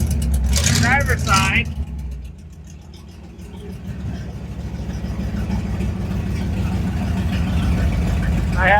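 Ford Ranger engine idling through newly added exhaust pipes, a low, even rumble that starts under a brief stretch of talk and then carries on alone, growing slightly fuller toward the end.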